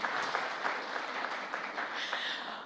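Audience applause at a televised sports interview event, a faint, steady patter of many hands clapping throughout the short stretch.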